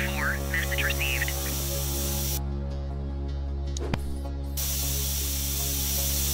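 A spray can hisses out graffiti in The Precinct video game, a steady close hiss that cuts out briefly and then resumes over a constant low electronic hum, with faint voices present.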